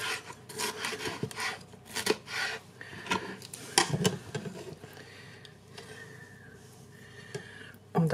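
A knife cuts vegetables into strips for a Halloween burger salad, giving close, rhythmic scraping and chopping strokes on a board that thin out toward the end, with no speech.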